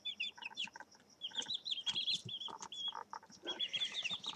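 A backyard chicken, the flock's rooster-like protector, gives a warning call of short, repeated clucks and squawks in irregular bursts, fairly faint and nearby, with other birds chirping around it.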